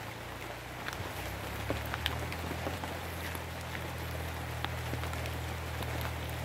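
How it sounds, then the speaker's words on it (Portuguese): Rain falling steadily in a forest on a cacao and soursop farm, a soft continuous patter with scattered nearer drops hitting leaves and a low background hum. "E a chuva chovendo."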